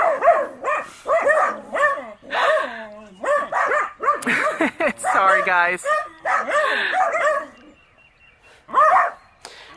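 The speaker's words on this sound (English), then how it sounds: "When there's dogs, they will bark." Dogs bark and yip repeatedly in quick bursts, close by in a spring vegetable garden, while a person talks over and between the barks.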